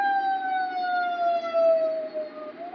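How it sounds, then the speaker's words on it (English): A single wailing siren holds a steady, slowly falling tone, fairly close and clear, with no talking over it. "you can hear that. The sirens right there."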